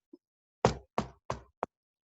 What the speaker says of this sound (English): they heard a knock on the very solid wood door